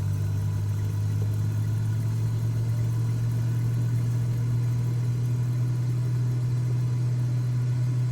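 Steady drone of a Cessna 206 piston engine in a flight simulator, run up to about 2,500 RPM for takeoff on the runway in calm winds, a loud, even low hum held throughout with no voices.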